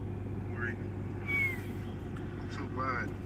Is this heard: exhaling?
no